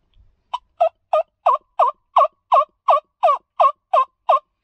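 Eleven sharp, evenly spaced yelps from a wing bone turkey call imitating a turkey, played close and loud in a steady rhythm after a short pause, with no one talking.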